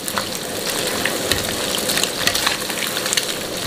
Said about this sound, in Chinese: 放入大虾，用中火来炸，全部下锅之后把虾炸至定型